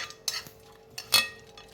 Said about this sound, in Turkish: Şimdi şöyle karıştırıyoruz